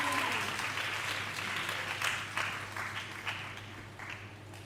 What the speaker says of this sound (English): Continue clapping until they get here.